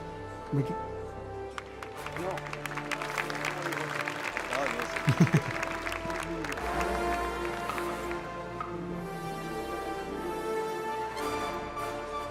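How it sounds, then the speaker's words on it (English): Audience applause at the FIA Awards Ceremony as Formula 2 and Formula 3 CEO Bruno Michel is called to the stage, a steady dense wash of clapping with a voice speaking over it throughout. "Round of applause for Bruno Michel"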